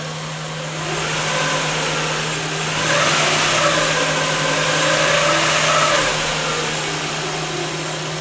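A car engine is held steadily just above idle in a garage workshop during an ignition scope check, giving a continuous mid-pitched hum with a strong low drone and a slight swell midway, with no talk.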